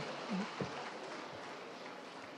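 Audience applause at an award presentation for the AGILE Games 2025 in Abuja, a dense continuous wash of clapping in a large hall, moderately distant and steady throughout.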